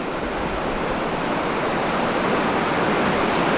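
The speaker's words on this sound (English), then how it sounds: "Here comes the set of the morning. The guys are going to get cleaned up at the back here. Look at the suck back on the swell here." Large swell waves break at Jeffreys Bay. The roar of white water and surf stays loud and continuous throughout, with no pauses and no voices heard.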